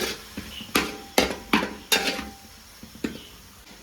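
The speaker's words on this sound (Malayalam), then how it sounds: "ഇളക്കിക്കൊണ്ടിരിക്കുകയാണ് ഇപ്പൊ നമ്മൾ" A spoon stirs onion, ginger, garlic and green chili in a pan for a Kerala chicken curry, making a series of sharp knocks and scrapes against the metal that are loud early on and lighter later.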